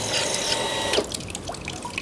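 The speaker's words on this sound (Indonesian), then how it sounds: "sekarang kita nyalain pompa sekali lagi ya" Water pump with a pressure tank switched on, sending water flowing steadily from an open tap, with a brief surge in the middle and a continuous rushing, trickling flow throughout at close range.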